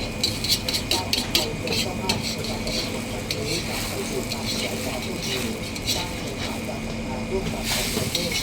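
Egg frying in hot oil for a crispy omelette, a steady crackling sizzle with sharp pops and spatters that are busiest at the start and then settle into a constant hiss.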